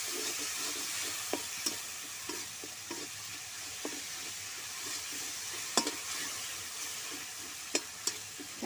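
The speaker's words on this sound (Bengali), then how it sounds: "দিয়ে ভালো করে একটু মশলাটা কষিয়ে নেব।" Spices for a spinach and bori curry sauté in a pan with a constant bright sizzle, punctuated by scattered light scrapes and taps of a stirring spoon, close and without talk.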